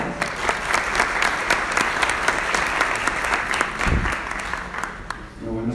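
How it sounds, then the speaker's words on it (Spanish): A workshop audience applauds warmly, dense steady clapping filling the room for several seconds before it begins to thin out at the end. "Recibamos por favor a Fabio con un fuerte aplauso"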